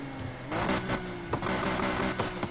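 A McLaren F1 sports car engine in Need for Speed Heat roars steadily with a few sharp revving surges, loud and close, with no talking.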